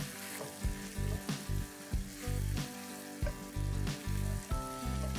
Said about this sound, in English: So now I'm going to add the fried onions that we had before back in.